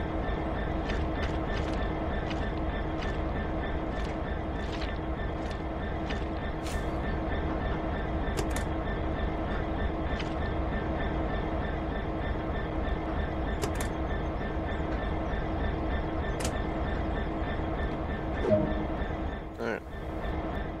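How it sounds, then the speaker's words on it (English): A train running in Train Sim World on Xbox One, a loud steady rumble of wheels on rails with rhythmic clicking over track joints and occasional sharp squeals, continuous throughout with no talk. "Now we're gonna drive the train in reverse or something."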